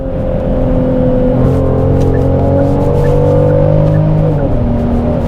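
A Genesis GV70 engine revs hard in sport mode and climbs in pitch as it accelerates, loud and close, with the tone shifting near the end as the automatic gearbox changes gear.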